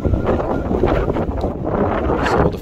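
Strong wind on a golf course buffets the microphone in a continuous loud rushing roar with gusty swells, no other sounds standing out.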